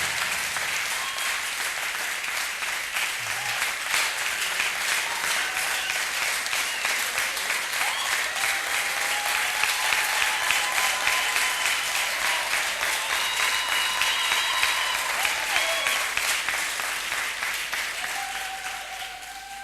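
A church congregation breaks into sustained, loud applause that swells and continues for nearly twenty seconds, with a few cheers and voices mixed into the clapping crowd.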